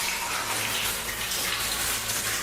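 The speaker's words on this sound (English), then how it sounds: "There's water dripping, which drowns out the sound somewhat" Water runs and splashes steadily inside an old mine tunnel, a constant broadband wash with no clear separate drops and no voices.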